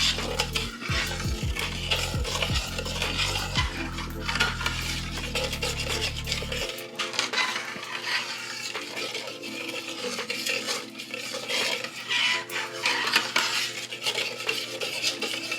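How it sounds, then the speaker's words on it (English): Rice with tomato bouillon is stirred in a pan, a long run of scraping and rubbing by a metal utensil against the bottom, with clinks and a low hum at the start that stops partway, close and with no speech. "you're stirring it to get anything that's stuck to the bottom of the pan"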